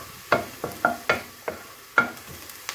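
Ground beef (giniling) browning in a pan for penne, with sizzling frying and a rhythmic series of close scraping stirs of a spatula, about once every half second, and no voices.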